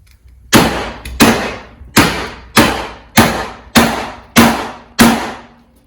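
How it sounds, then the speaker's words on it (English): A hammer strikes a steel torsion bar key bracket eight times in an even rhythm, each blow loud, close and ringing briefly before the next. No talk. "And then hit it with a hammer."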